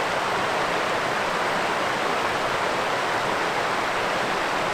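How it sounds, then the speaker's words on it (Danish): Sweden's highest waterfall in a national park, a steady, dense roar of falling water heard up close and without a break, with no voices over it. "man kan bare høre vandfaldet"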